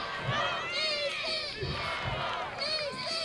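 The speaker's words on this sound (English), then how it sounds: "Crowd is getting rowdy." A rowdy crowd of fans at a professional ultimate frisbee game shouts and cheers in overlapping bursts, close and loud, with a commentator's voice faintly under the noise.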